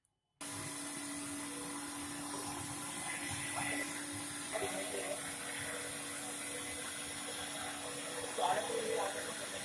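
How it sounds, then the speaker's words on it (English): A meat mince machine grinds meat for Lucknow seekh kabab, giving a steady, continuous motor drone that starts abruptly. Faint grinding and clunking textures sit over the hum, with a slight swell near the end. "now once again I'm going to put it through the mince machine"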